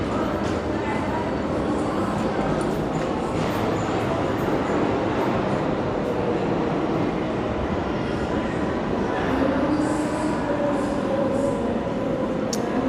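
A New York City subway A line train in an underground station gives off a steady, loud rumbling roar that fills the whole stretch without a break, with faint voices of people nearby under it.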